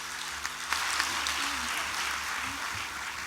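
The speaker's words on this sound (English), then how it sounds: "Give them a good applause." Audience at a national conference for chartered accountancy students breaks into steady, dense applause after a low hum, holding a moderate level throughout.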